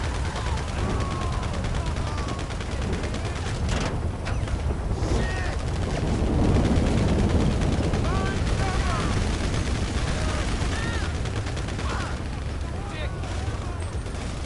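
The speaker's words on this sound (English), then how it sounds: "I'm shooting at the boss" Gunfire in GTA Online aimed at a boss, sounding as a dense, continuous stream of shots and game noise across the whole stretch, with a voice talking over it.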